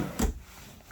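A full-extension pull-out kitchen drawer in a 2021 Keystone Bullet 2730BH travel trailer makes a single quick thump as it slides and stops, heard close, followed by quiet room tone.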